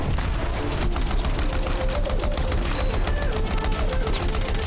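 Rapid automatic gunfire from the sci-fi shooter game Anthem rattles on continuously at close range, dense and steady, with a tonal whine running faintly beneath the shots.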